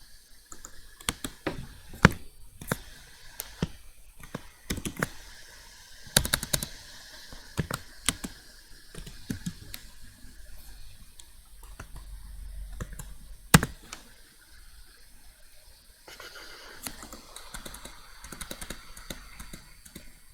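Keys on a computer keyboard are typed in irregular bursts of close clicks and taps, with sharper keystrokes scattered among lighter ones and brief pauses between runs.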